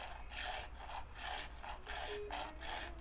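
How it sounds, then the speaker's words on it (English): Rhythmic rasping strokes of a file and scraper work the wood of a 1974 Telecaster guitar body, about six to seven even back-and-forth passes, close and fairly quiet. "We'll do some scraping and filing"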